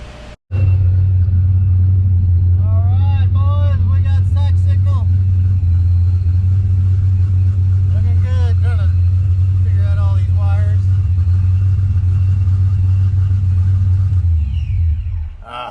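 A supercharged Fox Body Mustang with a noisy blower idles loud and close in a heavy, steady low rumble throughout, with voices talking intermittently over it.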